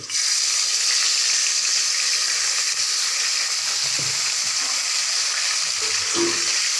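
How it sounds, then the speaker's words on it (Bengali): Boirali fish frying in oil in a wok, a steady, loud broadband sizzle that holds evenly throughout, with a few faint clinks and low knocks underneath. "এবারে ভাজবো বৈরালি মাছ। তো বৈরালি মাছটা কড়াইতে দিয়ে দিব।"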